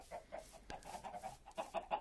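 Video game chickens clucking in short, repeated bursts, close and fairly faint, with irregular pauses and a quick click partway through.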